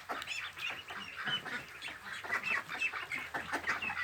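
A flock of young Yi Liang ducks calls continuously in overlapping high, chirpy cries, close by and without any talking.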